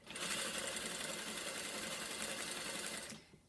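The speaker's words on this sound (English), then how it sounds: "if you are using a fabric that wants to fray a little bit, go ahead and stitch it twice" A sewing machine runs steadily, stitching fabric onto welt cord in one continuous burst of rapid needle chatter, close and loud, before stopping abruptly near the end.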